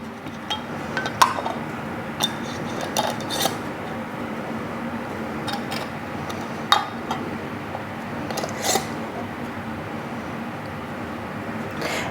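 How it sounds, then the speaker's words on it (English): Metal rings are screwed onto canning jar lids for beef broth, giving light scattered clinks and metallic clicks of glass and metal against a quiet room hum, close and intermittent. "Take your ring, twist it till it's finger tight, and then a little bit more."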